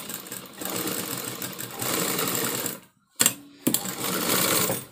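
A sewing machine stitches lining onto bordered sleeves in steady close bursts of rapid mechanical clatter, pausing briefly twice before running again; no voice is heard over it.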